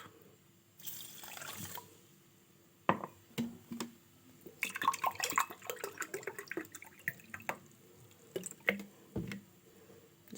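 Cups of water pour into a pot for basbousa syrup, a splashing stream running for a few seconds, then clinks, drips and handling sounds of cups and water, close by with no talking.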